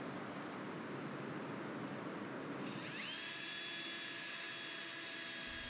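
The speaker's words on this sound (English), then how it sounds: "drive the screw and receiver into the post" A high-pitched power drill driving a screw and cable railing receiver into a post whines steadily, its tone shifting halfway through as the screw bites in, loud and continuous without talk.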